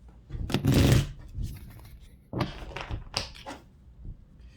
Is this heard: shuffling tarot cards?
yes